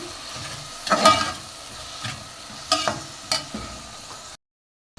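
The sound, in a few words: tomatoes being heated in a pan with salt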